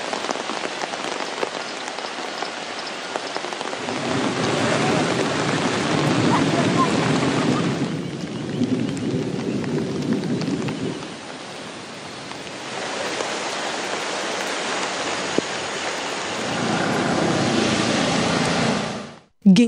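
Heavy downpour during severe flooding weather, a dense steady roar of rain on surfaces that swells and thins in waves across the stretch, loud and continuous with no voices.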